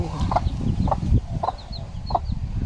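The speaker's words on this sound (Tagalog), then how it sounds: "Siyempre napakain na natin ang ating mga manok." Several short clucks from chickens at a steady, unhurried pace, close by, over a low rustling background.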